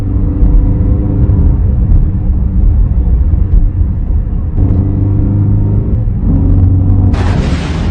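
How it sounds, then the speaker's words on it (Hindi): A car engine drones steadily as the vehicle rolls into a village, a loud continuous low rumble with a brief shift midway and a hissy burst near the end. "तभी एक व्यापारी अपनी गाड़ी से गांव में आ जाता है।"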